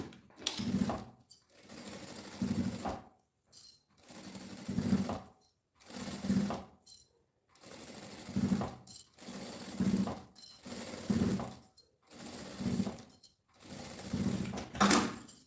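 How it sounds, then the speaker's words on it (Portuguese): Sewing machine stitching along the tips of a women's backpack's straps to fix them in place, running in a steady series of short bursts separated by brief pauses, close and clear with no talk. "Vou costurar na pontinha pra fixar todos esses tirantes aqui"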